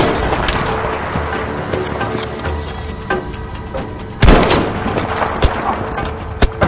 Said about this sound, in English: who the fuck is shooting at me, man?